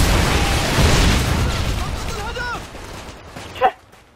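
A predator missile strikes in Modern Warfare 2, ending in a short, sharp loud burst near the end after a steady rumble of battle noise, with game effects swirling beforehand.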